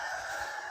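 A rooster crows on a farmyard homestead in one brief, loud call that fills the whole moment, with no voices over it.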